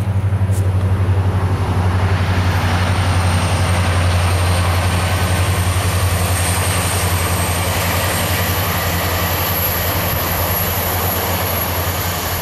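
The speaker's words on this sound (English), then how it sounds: "Oh, train." A train passes near an abandoned building on the way to the Manson Family murder site: a steady, loud low rumble and roar that holds evenly throughout, with no talk.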